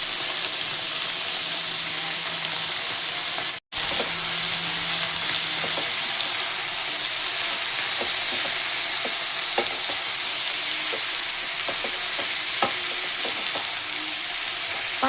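Food sizzles steadily as it fries in a pan with salt and turmeric, with scattered scraping clicks from stirring throughout and a brief dropout near the start; no one speaks.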